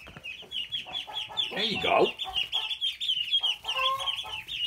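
Chicks released from a brooder into a chicken coop set off busy clucking and cheeping from the flock at close range, with a person speaking briefly over the birds.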